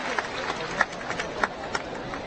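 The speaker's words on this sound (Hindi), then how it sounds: "ओकर बारे एक बार जोरदार ताली बजा के स्वागत है।" Crowd at a youth meet-and-greet event in Chhattisgarh applauds in welcome, a continuous rattle of many hands clapping at a moderate distance, with a few louder individual claps popping out.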